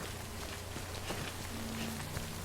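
Rain falling in the video game Death Stranding, a soft steady patter of drops on surfaces, faint and continuous with a low hum beneath it and no talk.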